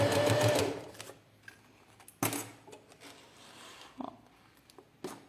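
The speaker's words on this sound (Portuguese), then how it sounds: "Vou arrematar e vou vir costurando, ó." A sewing machine stitches a plastic pouch in short whirring runs, loud at first and then in softer bursts with clicks and handling between, close by.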